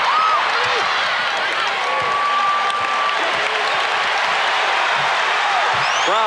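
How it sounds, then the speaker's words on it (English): Basketball arena crowd at a 1991 Eastern Conference Finals game between the Bulls and Pistons, a dense, sustained roar of cheering and applause with whistles cutting through, a commentator talking over it. "Crowd looking to urge the Pistons on."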